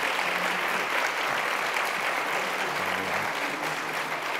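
Sustained applause from an audience at a women in clean energy lifetime achievement award ceremony, a dense, steady wash of many hands clapping throughout.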